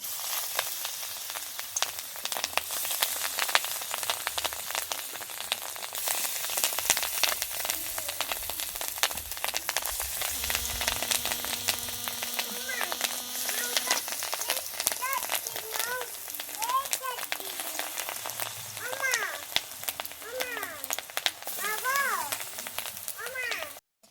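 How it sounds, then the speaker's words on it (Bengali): Fish roe frying in hot oil in a pan, a steady bright sizzle running the whole time, with a voice talking over it in the later part. "বাকি যে ডিমটা আছে এইভাবেই আমি ভেজে নিচ্ছি"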